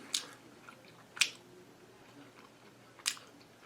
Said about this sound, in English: chocolate keto bar from Promito